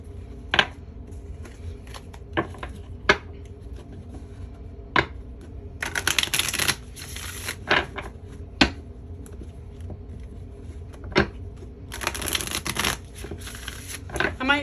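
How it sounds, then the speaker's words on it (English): Tarot deck being shuffled by hand at close range during a reading, crisp riffling and snapping card bursts repeating at irregular intervals, with a longer rapid flurry of cards midway and another near the end, and a voice speaking between them. "so you guys can kind of see that I'm shuffling"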